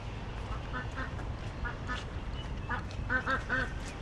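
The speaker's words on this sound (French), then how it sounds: "En plus, j'ai les petits canards." Ducks quack in short bursts, a few at a time and then a quicker run of calls near the end, over steady background noise and faint voices.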